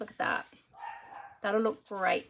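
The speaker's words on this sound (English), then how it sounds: "If you can hear my dog barking in the background, I apologize for that." A dog barks in the background indoors with a few short yips, while a person talks over it near the microphone.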